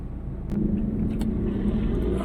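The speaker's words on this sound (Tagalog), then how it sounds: "Traffic mga ka-driver." Road traffic in the Philippines, heard from inside a vehicle: a steady low rumble of cars and engines, continuous and fairly loud, with a faint hum running through it and no talking.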